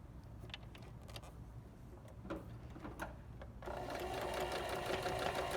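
A sewing machine stitching across the overlapping fabric layers of band PPE runs with a steady mechanical whir, quieter at first with light clicks, then louder and faster for the last couple of seconds, with no talking.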